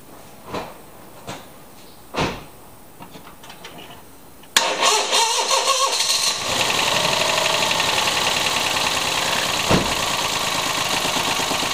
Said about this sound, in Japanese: 早速ねエンジンをかけていきます